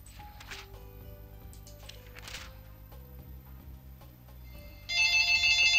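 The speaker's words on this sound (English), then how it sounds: "Tired of that phone." A telephone rings in the adventure game The Blackwell Legacy, a bright electronic ringing that starts abruptly near the end, louder than the quiet clicking and ambience before it.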